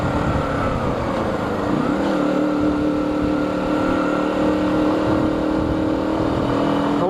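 A Chinese motorcycle climbs uphill on a valley road, its engine a loud, continuous drone mixed with wind rush. The pitch shifts upward around two seconds in, with no talk.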